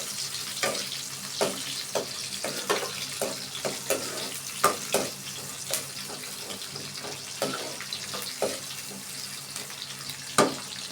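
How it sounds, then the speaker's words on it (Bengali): Onions frying in a pan for a kakrol and potato curry, with a steady hissing sizzle broken by repeated scraping stirs at an uneven rhythm, close and moderately loud, with no talking. "ভালোভাবে নাড়তে থাকবো ব্রাউন কালার আসা পর্যন্ত অপেক্ষা করে যাতে পেঁয়াজ পুড়ে না যায়"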